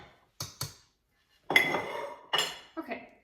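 A plate being grabbed in a kitchen, with a few sharp clinks of dishes and cutlery coming in separate short bursts and close by, with no talk over them.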